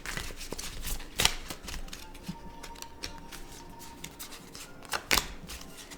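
Tarot cards are shuffled close by in quiet riffling bursts, with two sharper flutters as cards are drawn and snapped out of the deck.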